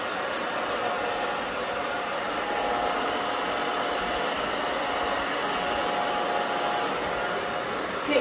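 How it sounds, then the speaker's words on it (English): A hair dryer runs continuously at close range, blow-drying fine hair for a short bob style, producing an even, loud whooshing roar with little change in level and no speech. "so the back I'm just going to dry down"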